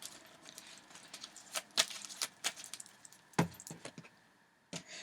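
Tarot cards are shuffled with soft, quick irregular riffles and snaps, close and fairly quiet, with no talking.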